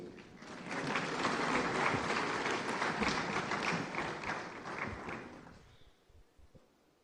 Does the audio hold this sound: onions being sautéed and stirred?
no